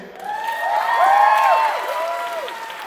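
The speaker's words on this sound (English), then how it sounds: "Another round of applause for Mr. David Hayter." Audience at an AsiaPopCon 2024 convention panel welcomes voice actor David Hayter with sustained applause and cheering, mixed with high, sliding whoops and shouts that swell in the middle and stay steady to the end.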